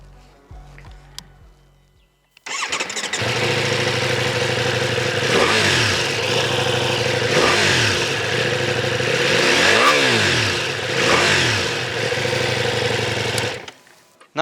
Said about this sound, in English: Let's have a quick listen at how it sounds